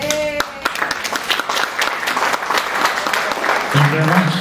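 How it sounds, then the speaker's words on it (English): Audience applause at a motivational talking event, steady broadband clapping from a crowd filling most of the stretch, with voices briefly talking near the start and again at the end. "Let's give him a big, big round of applause."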